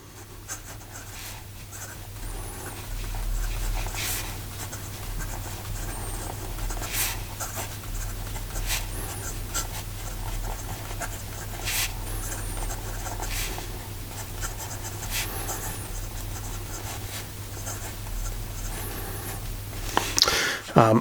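Montegrappa fountain pen with a medium nib writing on paper, a soft, steady scratching and gliding of the nib under a low constant background hum, with a few brief taps and a louder knock near the end.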